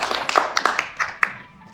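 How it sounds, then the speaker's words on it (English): A short burst of audience clapping after a tech talk, a handful of sharp, close hand claps fading quickly. "big round of applause"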